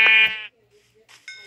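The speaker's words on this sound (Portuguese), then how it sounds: "Opa, achei outra ovelha." A sheep in the video game Minecraft gives a short wavering bleat, then a brief quieter second call after a pause, heard close and clear.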